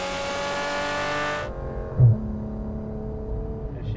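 Engine of a 2016 Porsche 991 GT3 RS screaming at high revs while cornering at speed, then the note drops abruptly as the throttle lifts, leaving a lower steady drone with a faint tire squeal.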